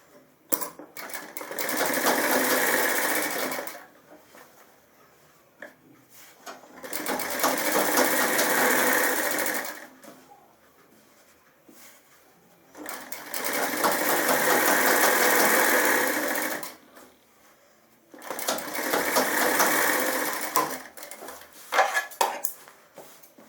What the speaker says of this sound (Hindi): अब ऐसे ही हम बटन टेक पे भी ये कच्ची सिलाई मार लेते हैं।